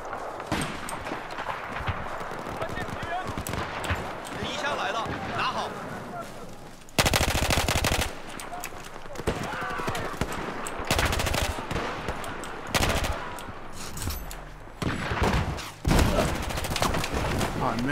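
SCAR-H rifle fire in the PC game Battlefield 4 rattles in repeated rapid bursts with distant battle gunfire throughout, loud and dense, with a player's voice talking intermittently over it.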